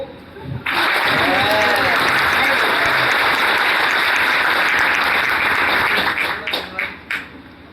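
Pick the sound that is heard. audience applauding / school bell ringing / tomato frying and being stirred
audience applauding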